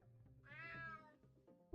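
A single drawn-out cat meow rises and falls in a video game, quiet and alone against a soft background hum, followed by a brief thump at the end.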